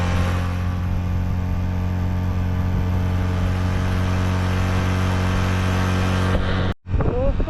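Bajaj Platina 100cc motorcycle engine idling steadily in a high mountain setting, a loud close, even drone that runs for several seconds before cutting out abruptly near the end, with a brief faint voice after.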